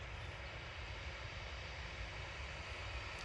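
A Ryanair airliner moves onto runway 23 left at Manchester Airport for a full-length takeoff, its engines a constant, fairly faint, even drone.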